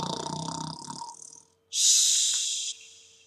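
A person imitates snoring for children's listening practice: a rough, buzzy inhaled snore, a brief pause, then a loud hissing exhale, close and alone with no talk.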